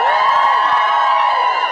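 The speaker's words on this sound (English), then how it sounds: "Give yourself a massive cheer" A concert crowd at a boyband tour show in Sheffield cheering, a loud sustained high-pitched roar of many voices with shrieks from young fans, continuous throughout.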